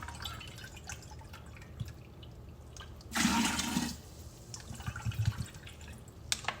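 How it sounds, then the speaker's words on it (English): Spring water gushes into a pitcher in a short, loud pour lasting under a second, surrounded by quieter drips and faint splashes before and after. "we're going to add about 3 cups of water to this"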